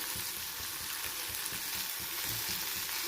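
Mango and eggplant pieces frying in a pan for a chutney, a steady soft hiss and sizzle with faint stirring scrapes, close but quiet, no talk.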